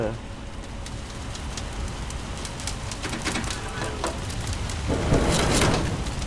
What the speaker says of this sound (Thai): อาจจะมีเสียงฝนรบกวนต้องขอประทานอภัยเด้อ